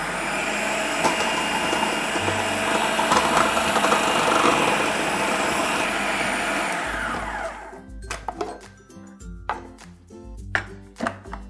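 Food processor slicing peeled, halved and quartered apples into very thin slices for apple strudel, a loud steady whirring blade and motor drone that cuts off abruptly, followed by scattered clattering and knocking of the bowl and lid.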